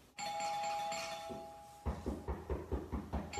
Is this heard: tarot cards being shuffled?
no